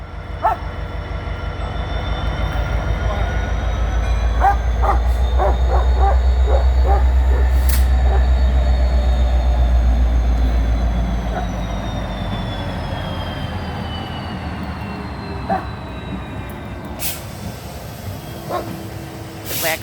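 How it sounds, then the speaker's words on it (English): A train passes close by with a loud, low rumble and rattling wheels that builds and then fades. A dog barks repeatedly over the noise, and there are faint voices in the background. "I'm going to sit on the bench to watch the train."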